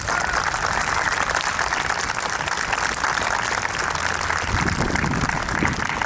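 Sustained applause from a crowd at a New York State Police special operations response exhibit, a dense steady wash of many hands clapping throughout without pause.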